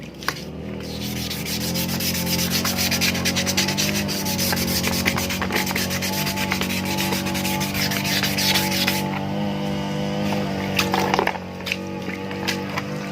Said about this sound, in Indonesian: Ini sudah saya amplas.